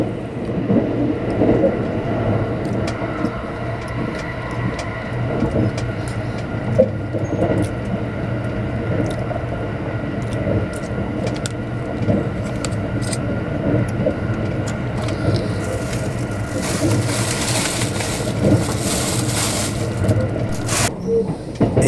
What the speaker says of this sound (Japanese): 電車がガタンゴトンガタンゴトン揺れて京都駅入線です。